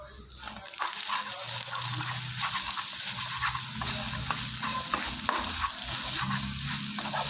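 Eggs cook with bitter gourd in a pan, giving a continuous close sizzle with occasional stirring scrapes, steady and moderately loud throughout.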